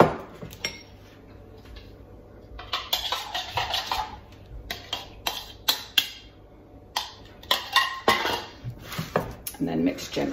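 Keto pizza dough is mixed with egg in a bowl, with a dense run of utensil clinks and scrapes against the bowl, close and busy, some of it under a voice.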